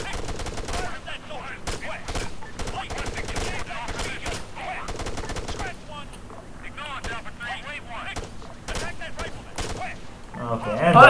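Rifle and machine-gun fire in the video game ARMA III, rapid bursts and single shots crackling throughout a valley firefight, with voices talking over the shooting.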